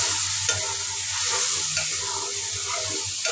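Spice masala with chilli, salt and a little water frying in a pan while being stirred; a constant close sizzle with soft scraping stir strokes throughout.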